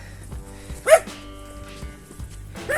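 Dogs behind fences bark along a hiking trail near Verona, Italy, a couple of sharp, fairly close barks spaced apart over a steady low background.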